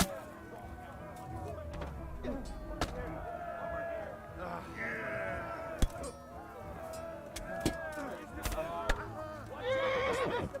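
A horse in the medieval video game Kingdom Come: Deliverance whinnies amid game sounds, with sharp thuds and clatter scattered throughout and a voice speaking over parts of it.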